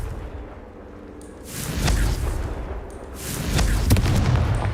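Explosive spell blasts in the Hogwarts Legacy video game, two heavy booming bursts about two seconds apart, loud and close, each rolling into a noisy rumble with no talk.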